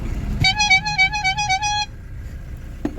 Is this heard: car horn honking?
yes